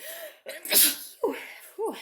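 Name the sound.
sneeze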